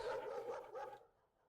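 A dog barks and yips in a short, quick burst, then falls quiet, in a video game.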